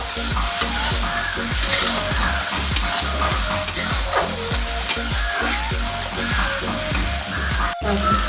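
Chopped onion, green chili and garam masala frying in a pan for a mushroom dish, a loud continuous sizzle with repeated spatula stirring scrapes in a steady rhythm, close up and without speech.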